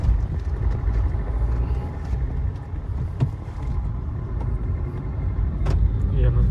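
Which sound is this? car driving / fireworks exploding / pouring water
car driving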